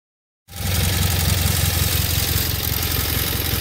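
An Onan B43E twin-cylinder engine on a 1984 John Deere 316 garden tractor starts after a moment of silence and settles into a steady, loud, close idle with an even rhythmic chug.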